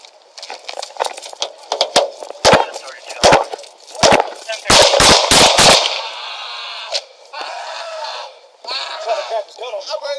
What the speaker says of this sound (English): HQ shots fired.